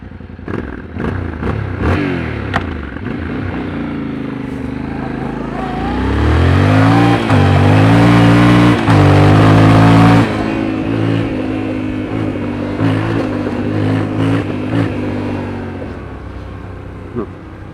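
A Chinese-made dual sport motorcycle engine idles and then revs strongly for several seconds, loud and close, before settling back to a rough, clattering idle.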